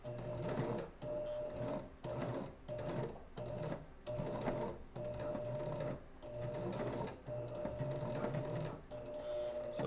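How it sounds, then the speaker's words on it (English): A sewing machine stitches a thicker embroidered edge on a Spider-Man glove, running in repeated bursts of rapid mechanical whirring with brief pauses between runs, close and steady. "So I'm sewing this again for strength"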